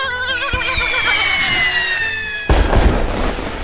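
A cartoon bottle rocket firework whistles with a rising, wavering shriek, then bursts with a sudden loud bang and crackling rumble near the end.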